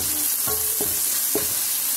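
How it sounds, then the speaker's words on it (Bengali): Onions and green chillies fry with salt in a pan for a prawn and broccoli dish, giving a steady close sizzle broken by two or three quick spoon scrapes. "পেঁয়াজ আর কাঁচামরিচ আমি একটু ভেজে নিব, একটু লবণ দিয়ে দিচ্ছি।"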